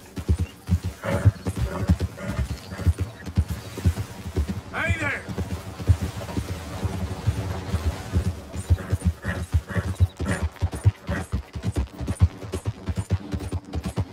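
Horse hooves clip-clop steadily in Red Dead Redemption 2 gameplay, close and moderately loud, with a brief whinny partway through and someone talking over much of it.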